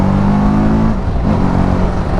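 A TVS Apache RTR 310 street-fighter motorcycle engine pulls hard. Its loud, close, continuous engine drone has a brief dip around a gear change before the note resumes, with no talking over it.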